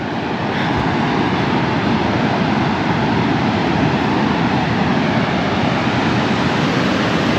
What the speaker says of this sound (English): oh, I've got 2 planes.